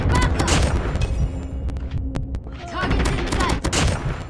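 Legendary M4 assault rifle firing in Call of Duty Mobile, loud rapid bursts of gunfire with sharp repeated cracks and a short lull in the middle.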